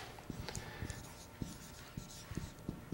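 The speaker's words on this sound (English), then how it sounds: "let me write it down" Pen scratching on paper as a lecturer jots down a term in a quiet room, with short, irregular strokes and taps, faint and close, no talk.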